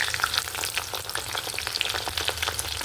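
Parippu vada sizzle and crackle steadily in hot oil as they are stirred, with dense bright popping and occasional soft scraping knocks throughout.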